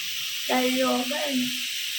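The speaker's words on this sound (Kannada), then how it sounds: "ಇದಕ್ಕೆ ನಾವು ಇದು ಹಾಕೊಂಡಿದ್ದೀವಿ ಒಗ್ಗರಣೆ." Tempering (oggarane) sizzling in hot oil, a short hissing burst that flares up briefly and fades, with a voice talking over it.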